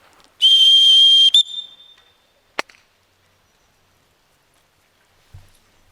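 Dog training whistle gives one sharp, piercing blast of about a second, then a single short click and a faint thud in otherwise quiet surroundings.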